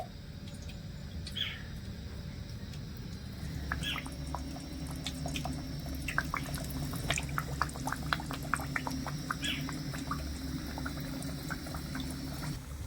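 Potol khaja pastries of flour and sugar sizzle softly in lukewarm oil, a steady low bubbling hiss with scattered small pops and crackles throughout.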